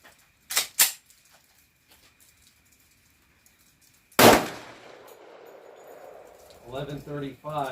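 FN 510 Tactical pistol firing high-pressure +P loads: two sharp, close shots about a third of a second apart, a long quiet pause, then a third loud report with a ringing tail as a voice begins talking.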